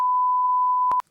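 A single steady sine-tone censor beep holds for about a second, then cuts off abruptly after two short clicks, loud and clean with no voices.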